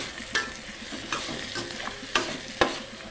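Tomatoes and onions fry in a pan with a soft, steady sizzle, broken by a few scraping stirs at irregular intervals.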